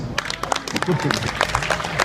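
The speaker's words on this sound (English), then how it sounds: "Give these guys a big round of applause as they leave stage." A street show crowd in Sydney claps in scattered, uneven bursts while a performer keeps talking over the top, the applause fairly loud but patchy rather than a full roar.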